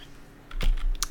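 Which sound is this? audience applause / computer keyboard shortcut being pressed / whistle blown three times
computer keyboard shortcut being pressed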